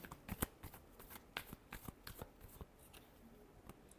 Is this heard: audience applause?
no